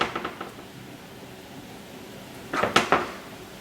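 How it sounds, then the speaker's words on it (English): Sauce stirred in a pot with a utensil, giving a few light clinks and scrapes at the start, then a short busy cluster of louder knocks and scraping near the end, close by and with no talk. "Mixing this sauce up"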